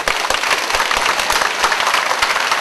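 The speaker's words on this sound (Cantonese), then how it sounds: "熱烈嘅掌聲，邀請今日10位入圍嘅參賽者" Warm applause from an audience welcomes contestants at a competition, a dense and continuous patter of many hands clapping at once with no talk over it.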